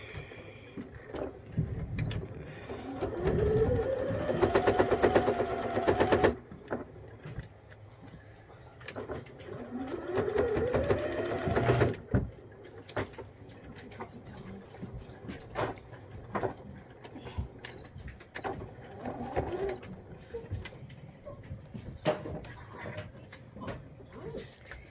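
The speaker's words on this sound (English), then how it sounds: "just do your seam line, your sewing straight down. Let's do a bit of a back stitch." Sewing machine stitching a seam on a fabric face mask, two bursts of fast mechanical whirring and clatter with a back stitch, separated by quieter handling clicks and rustling, close and moderately loud.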